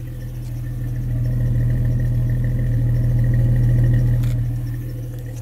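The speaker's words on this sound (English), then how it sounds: "let you hear this exhaust." A Jeep Cherokee XJ engine idles steadily with a low, rumbling exhaust drone and a faint rhythmic pulse, close and continuous throughout.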